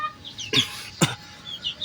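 Chickens on a Filipino backyard farm raising gamefowl give two short, clear clucks about half a second apart, close by, with faint chirps from chicks between them and no talk.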